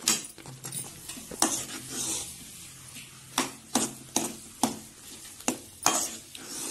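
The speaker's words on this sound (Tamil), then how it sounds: "அதனால் நல்லா சேர்த்து கிண்டிக்கணும்." Thick dough is stirred and worked in a pan, with a series of sharp, evenly spaced scraping strokes over a faint background sizzle, close and fairly quiet.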